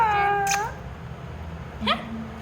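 A small kitten gives two short meows, the first clear and close, the second a bit fainter, over low background hum with no talk.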